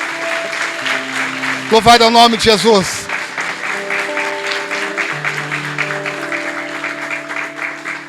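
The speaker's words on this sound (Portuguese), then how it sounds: "E só aquele que recebe aplauda o Senhor" A church congregation claps in a short burst of applause amid lively cheering voices, while a preacher speaks over steady background music.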